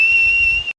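A single sustained whistle from a person, a steady clear tone held for most of a second before cutting off abruptly, loud and alone with no talk.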